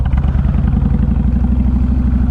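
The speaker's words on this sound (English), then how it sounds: "to hit the road on this here big stupid Kawasaki" A big Kawasaki Meanstreak motorcycle cruises along the road, its engine a steady, loud, close low drone with rhythmic pulsing and no break.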